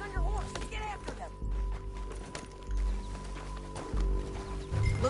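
Horse hooves galloping in Red Dead Redemption 2, a rhythmic pounding of repeated hoofbeats at moderate level, with game music and ambience underneath.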